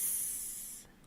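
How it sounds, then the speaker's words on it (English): Steady, loud hiss of a geyser venting steam, bright and airy, holding for about a second before cutting away abruptly near the end. "That's the sound of the geyser steaming."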